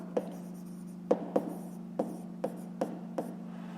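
A pen scratches across paper in short, separate strokes, about seven of them, during a fifth-grade math exercise, heard close over a steady low electrical hum.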